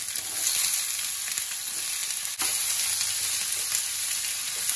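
Onions frying in a pan with cumin, green chilli and garlic, a loud continuous sizzle close up, with faint stirring scrapes and one brief dip partway through.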